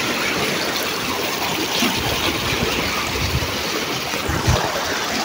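A swollen stream in flood, rushing loud and steady with continuous broadband churning of water close by and no voices.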